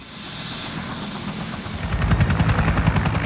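A helicopter roars close by while landing in the Canadian glacier country, its rotor chop turning into a loud rhythmic thudding that dominates throughout.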